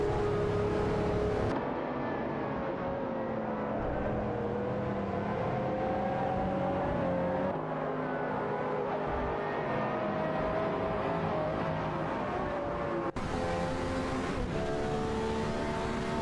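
Race cars in a video game, an Audi R8 and a Ferrari among them, drone on continuously with whining engines that shift pitch as they accelerate and pass, holding at a steady moderate level.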